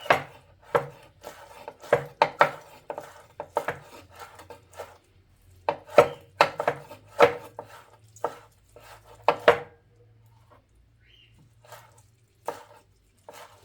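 Washed, dried button mushrooms being sliced with a knife on a board, a run of close, sharp chopping taps in bursts with brief pauses, alone without talk.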